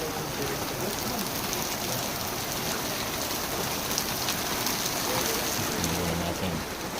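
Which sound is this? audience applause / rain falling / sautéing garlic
rain falling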